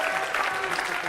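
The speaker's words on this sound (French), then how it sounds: "On peut l'applaudir." Studio audience applause on a French television show featuring feats of endurance against cold, fire and pain, dense even clapping filling the whole moment at moderate loudness.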